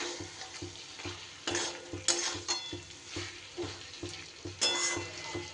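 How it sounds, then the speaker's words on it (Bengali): Pointed gourd cooks with spices and a splash of water in a pan, a spoon scraping and stirring in a steady rhythm over a soft sizzle, close and moderately quiet. "মশলার সাথে পটল কষিয়ে নেওয়ার জন্য।"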